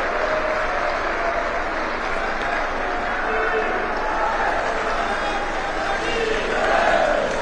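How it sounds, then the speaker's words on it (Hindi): A large crowd at a public event honoring the Prime Minister breaks into sustained applause mixed with cheering and shouts, a steady dense roar that swells slightly near the end. "जोरदार तालियों से आइए माननीय प्रधानमंत्री जी का आभार व्यक्त करें।"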